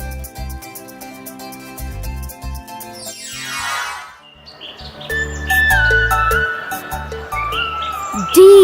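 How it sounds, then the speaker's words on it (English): Several birds chirp and tweet in a jungle setting, bright calls rising over a cartoon-style musical background with a sweeping whoosh partway through; no one speaks. "there lived a flock of birds"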